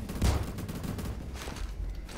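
Shotgun blasts in the Roblox first-person shooter Phantom Forces, a sharp burst of gunfire early on followed by scattered quieter shots and battle noise, with no talking.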